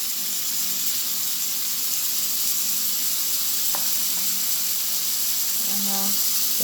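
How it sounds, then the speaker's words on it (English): A teaspoon of pimento seeds sizzles steadily in a hot pan for a Jamaican vegan pigeon peas stew, a loud continuous hiss with a few faint clinks near the end. "I'm gonna add also a teaspoon of pimento seeds"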